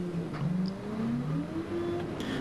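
Engine of a Bell 4206D dirt tractor running, a steady mid-pitched drone that rises and falls slightly in pitch as it works, heard close and alone.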